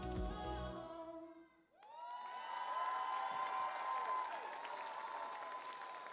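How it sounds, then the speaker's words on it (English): A school audience at the Showquest 2026 performance for St Mary's Catholic School Tauranga breaks into loud, sustained applause and cheering with whoops, just as the final music stops, filling the hall steadily to the end. "Keep giving a big round of applause to your seventh performance of the night"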